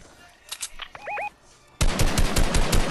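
Rapid bursts of gunfire in Fortnite Battle Royale while being sniped at, a few sharp shots early, then a loud sustained volley of close rapid fire toward the end.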